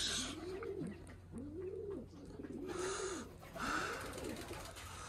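Pigeons at a loft coo in a steady run of four rolling, swooping calls, close and clear over a low constant hum, with a faint hiss of background noise.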